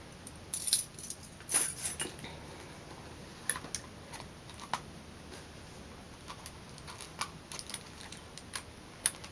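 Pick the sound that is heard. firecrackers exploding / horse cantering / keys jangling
keys jangling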